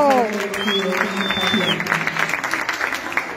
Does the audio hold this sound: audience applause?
yes